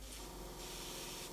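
Short airbrush spray hisses steadily as paint is applied to a miniature, close and continuous with a slight change in intensity partway, no voices.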